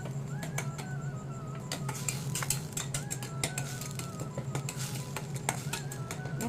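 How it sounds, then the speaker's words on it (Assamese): Onions frying in a kadai over a low flame while being stirred, with a steady soft sizzle and repeated light scraping and clinking of the spatula against the pan, close and alone. "আৰু এইখিনি ধুনীয়াকৈ মই কম জুইত ভাজি থাকিম লৰাই লৰাই"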